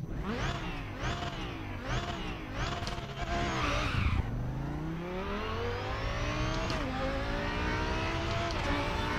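Race car engine in a driving video game played on PXN PDHM Gen2 pedals, revving hard through repeated upshifts, then dropping low into a corner and climbing steadily again, with tire squeal and no talk.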